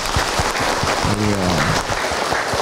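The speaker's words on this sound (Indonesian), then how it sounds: "tepuk tangan buat Ibu Murni." An audience at an Islamic preaching session applauding a woman, steady close clapping throughout with a voice briefly speaking over it.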